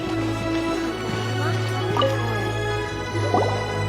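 Water is collected in Genshin Impact as soft drips and liquid plops over a steady ambient game hum, with one clearer splash near the end.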